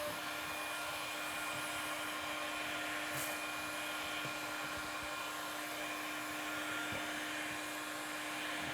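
A heat gun blows steadily while heating window film being shrunk into place, giving a constant close airy whoosh with a low hum running the whole time and no talk.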